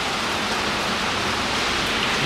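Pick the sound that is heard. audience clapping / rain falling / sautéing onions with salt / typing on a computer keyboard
rain falling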